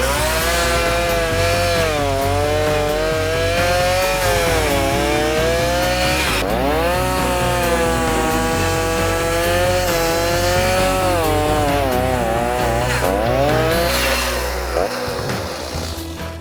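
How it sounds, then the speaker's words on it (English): A chainsaw cuts through the trunk of a wild cabbage palm, its engine loud and close, whining steadily with pitch dips and surges as the blade bogs into the fibrous wood. "Now I'll take my chainsaw, cut it off, show you the rest."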